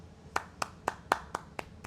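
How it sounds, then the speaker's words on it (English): A single pair of hands claps in a slow, even rhythm of seven sharp, close claps with no voices or crowd. "round of applause, man"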